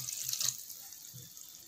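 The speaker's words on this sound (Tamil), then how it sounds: "100 மில்லி அளவுக்கு தண்ணி ஆட் பண்ணிக்கலாம்." About 100 ml of water is poured into a pan of frying masala for curd chutney. The splash and sizzle are close and steady, then fade and stop abruptly.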